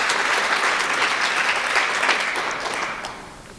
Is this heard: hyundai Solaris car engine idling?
no